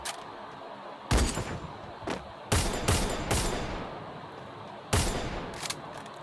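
Bursts of video game gunfire during a headshot-focused shooter match: five loud, sharp volleys of shots spread across a few seconds, close and dry, with short pauses between them and no talk.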